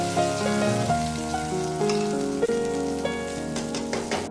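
Mustard seeds and curry leaves tempering in hot oil in a kadai for prawn thoppu, a steady crackling sizzle with sharp pops over a background of music.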